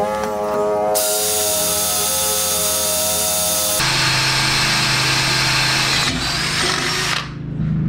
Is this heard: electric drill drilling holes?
yes